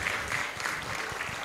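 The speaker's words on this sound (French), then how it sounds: "Applaudissons les amis." Audience applause at an interior design week and awards event in Africa, a dense continuous patter of clapping throughout, moderately loud and without pauses.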